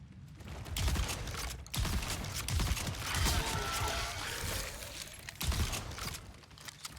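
Video game gunfire aimed at the player, a dense, continuous spray of shots with heavy low-end bursts lasting several seconds, loud and close with no speech over it.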